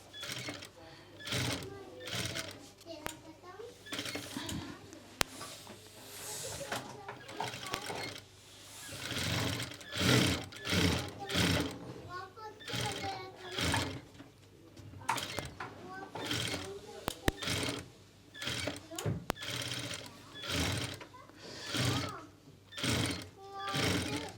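A sewing machine stitching a pheran in a boutique runs in repeated short bursts of rapid mechanical clatter, stopping and starting, with someone talking between and over the runs.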